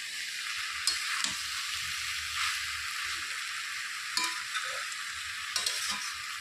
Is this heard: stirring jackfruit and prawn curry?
yes